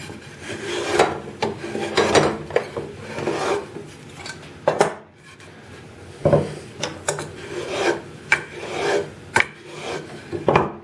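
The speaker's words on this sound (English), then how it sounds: "See if I can get a shaving on the oak similar to that." A hand tool shaves a piece of scrap oak in repeated close, scraping strokes, each a rough rasp followed by brief pauses, with one longer pause midway and no talking.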